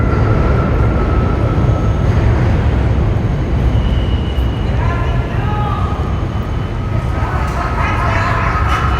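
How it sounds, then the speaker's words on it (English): A New York City Q subway train at the large Coney Island terminus, a loud, continuous rumble and roar close by, with faint squealing tones from wheels and brakes rising near the end. "So here's the Q train. This is a pretty big terminus."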